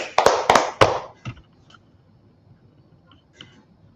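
Three or four sharp hand claps ring out close by at a class gathering, then fade into near silence with one faint tap later.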